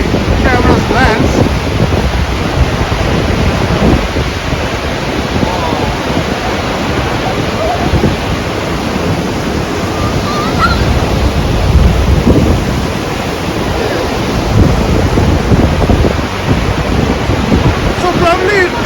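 Takakkaw Falls in a Canadian national park roars as a loud, steady, broadband rush at its base, with buffeting wind noise on the microphone throughout.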